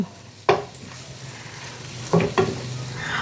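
Garlic and onion sautéing in a pan give a low steady sizzle, with a couple of brief stirring scrapes standing out near and fairly loud, and no talk.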